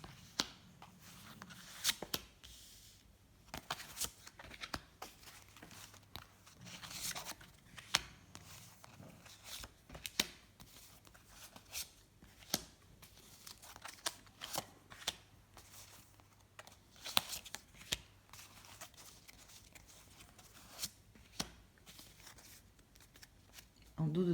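Oracle cards are quietly shuffled and laid out one by one into a nine-card spread, with soft rustles and light card taps at irregular intervals. A voice speaks alongside the cards.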